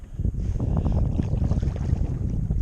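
Water sloshing and splashing against a cathedral-hull fishing kayak cutting through choppy water, over steady wind buffeting the microphone, continuous and close.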